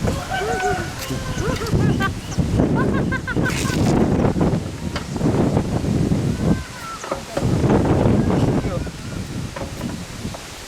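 Strong gusts of wind buffet the microphone in loud rumbling bursts that rise and fall, with brief quieter gaps between them.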